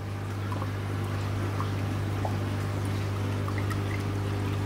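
Aquarium airlift filter driven by air rather than a water pump, pushing out a steady, close rush of bubbling, trickling water over a constant low hum, with no talking.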